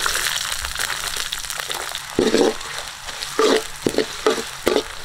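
Chopped ginger fries in oil in a pan for a spicy crab gravy, giving a steady sizzle broken by several louder bursts of stirring and scraping, close and without voices.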